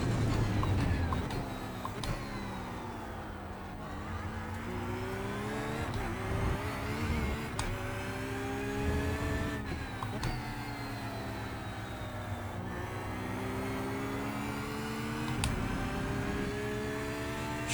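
A Porsche GT3 race car in iRacing at Phillip Island accelerates hard, its engine whining up through rising pitch sweeps with brief dips at gear changes, loud and continuous with no voices.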